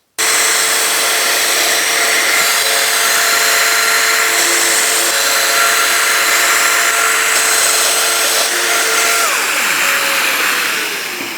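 A Festool Domino joiner cuts 50mm deep connector slots, a loud steady motor whine with a cutting tone that holds for about nine seconds, then winds down as the tool stops.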